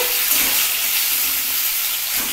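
Chopped tomato tipped into hot mustard oil in a pan, a loud, dense, steady sizzle that fills the whole moment close up with no talk.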